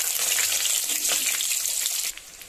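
Chopped small onions (shallots) hitting hot oil with popped mustard and fenugreek seeds for manathakkali kuzhambu: a loud, bright, hissing sizzle that drops off sharply near the end to a quieter crackle, with no talking.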